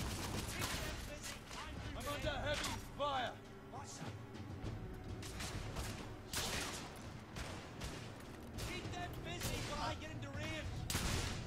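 Heavy gunfire in The Order: 1886 rattles in dense, overlapping bursts of shots and blasts throughout, loud and continuous, with shouting voices mixed in among the shooting.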